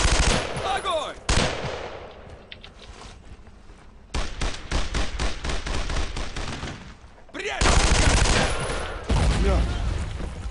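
Machine-gun and rifle fire from the World War II shooter Brothers in Arms: Road to Hill 30, with dense bursts of automatic fire that pause and then resume louder, filling the whole stretch, and a voice mixed in.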